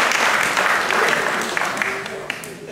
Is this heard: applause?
yes